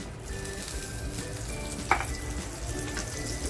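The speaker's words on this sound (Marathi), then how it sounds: "जे बटर घेतलं होतं ना ते बटर टाकते बघा" Butter sizzles steadily in a pan with finely chopped onion, a close, continuous frying hiss with a brief clink partway through and no talking.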